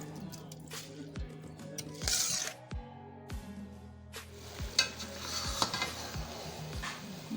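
Soaked rice is tipped into a pot of boiling water for matar pulao, giving a splashing pour, scattered clinks of a metal pot and utensil, and soft bubbling.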